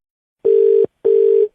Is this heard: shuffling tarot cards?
no